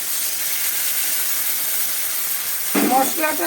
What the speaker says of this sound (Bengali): এবার আমি দিয়ে দিচ্ছি এই মশলাটা